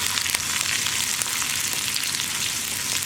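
Onions, dried chillies and curry leaves for sambar frying and being stirred, a dense steady crackling sizzle close up with faint utensil taps, no one speaking.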